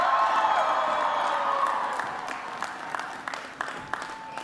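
A crowd at the annual March for Life in Washington D.C. claps for Speaker Johnson and Congressman Chris Smith, dense and loud at first, then thinning into scattered individual claps with a few faint cheers.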